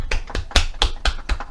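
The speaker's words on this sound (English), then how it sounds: "the last clap, The last clap." Close, crisp hand claps during the 8 o'clock clap in late May 2020, about seven sharp separate claps in a quick, slightly uneven rhythm from one or a few people, with no talking.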